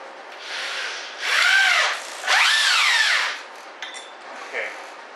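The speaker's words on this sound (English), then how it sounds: "about a 1-inch screw. And I'm going to put it into the plywood" Power drill drives a coarse-thread 1-inch Phillips screw into plywood in two rising whirring bursts, close and loud, with the pitch climbing as each run goes on and a few faint clicks after.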